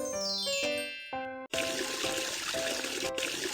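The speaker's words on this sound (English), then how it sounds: "Turn off the tap." Cartoon tap water running into a washbasin, a bright splashing pour with tinkling tones and rising musical notes, then a steady trickle of running water continuing alone and fairly faint.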